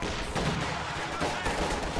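Panzerwerfer rocket artillery strikes in a World War II strategy game, a dense rumble of overlapping explosions with two heavier bursts about a second apart.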